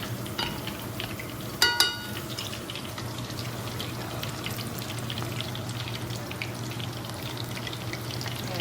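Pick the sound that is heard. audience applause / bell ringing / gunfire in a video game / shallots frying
shallots frying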